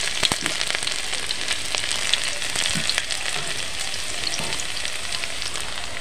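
Garlic frying in hot oil gives a close, constant crackling sizzle with scattered sharp pops and no voices.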